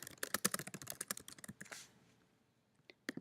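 Quick, uneven keystrokes on a computer keyboard fill the first two seconds, clicks clustered close together, then trail off into near silence with a couple of isolated taps near the end.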